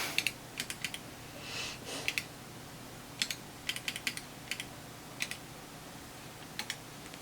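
Sparse clicks come from the front-panel keys of a Datron 1062 autocal multimeter as they are pressed, some single and some in quick pairs, faint and close in a quiet room with no talking.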